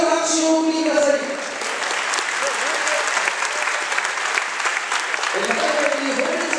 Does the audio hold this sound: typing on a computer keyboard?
no